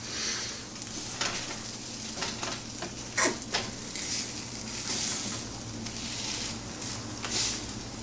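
Pancakes frying hot in a pan on high heat, a steady close sizzle with soft crackles and a few brief scraping touches, no talking.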